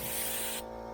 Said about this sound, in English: Just spraying a little primer on here